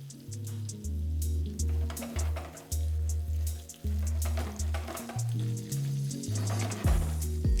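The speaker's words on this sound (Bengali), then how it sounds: "এটাকে কিন্তু আপনাদের তেলই ভালো করে প্রথমে ফ্রাই করে নিতে হবে।" Poppy seeds frying in oil for an aloo potol curry, a near, bubbling sizzle with rhythmic low knocks and surges as the pan is stirred, no speech.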